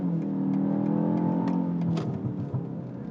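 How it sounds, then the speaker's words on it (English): A BMW X1 M in manual mode revs loudly and then lets off, its exhaust giving a few sharp pops and crackles as the engine note falls away. "And you get those pops and bangs"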